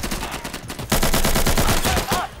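Rapid automatic gunfire in the tactical shooter Insurgency, a dense, loud burst of closely spaced shots that intensifies midway and runs for about two seconds, with no voices.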